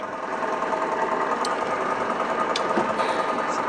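A metal lathe running steadily after switch-on, set up for threading with the half nut engaged, giving a continuous mechanical whir with a rapid rattling texture and a few brief sharp clicks, close and fairly loud.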